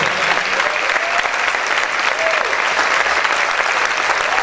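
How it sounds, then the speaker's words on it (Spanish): A church congregation applauds strongly during a sermon, a loud continuous roar of clapping with a few voices rising briefly above it. "Dale ese fuerte aplauso al Rey."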